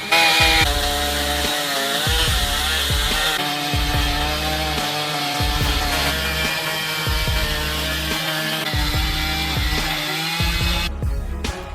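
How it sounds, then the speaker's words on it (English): A STIHL 880 chainsaw, rated at 8.6 kilowatts, cuts through a massive sequoia log with a loud, steady engine roar and a rhythmic pulsing as the chain bites, running close and continuous before cutting off at the end. "STIHL 880 chainsaw is about to slice through the massive sequoia log"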